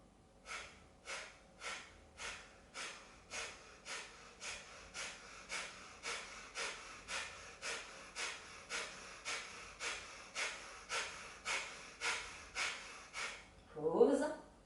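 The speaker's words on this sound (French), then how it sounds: "Expire, tranquille. Sur 3 respirations." Guided breathing exercise during an abdominal strengthening session: about twenty quick, forceful exhalations in an even rhythm, close and fairly quiet, ending with a short voiced sound.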